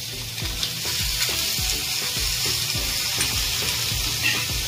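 Eggplant pieces fry in roasted masala for a Khandeshi-style eggplant curry, a close, steady sizzle broken by repeated scraping stirs of the spoon, with no talking.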